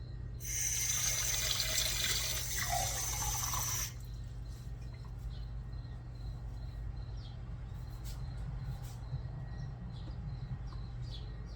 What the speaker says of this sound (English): So I'm going to be adding cold water to it